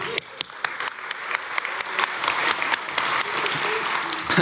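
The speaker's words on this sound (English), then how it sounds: "Good clap for this guy right here." Audience at a hacker conference applauding, a dense continuous wash of clapping with a few sharper individual claps standing out, steady and fairly close throughout.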